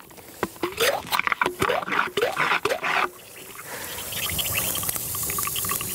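Water gushes and splashes steadily onto a Ferrari F40 during a winter car wash, first in a series of uneven bursts, then as a continuous spraying hiss, fairly close.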